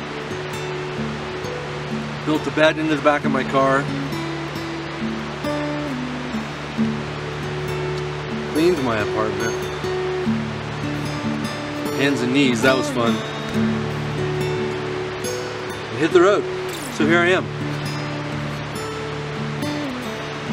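The Imnaha River flows with a steady, broad rushing wash that runs the whole time beneath a person talking.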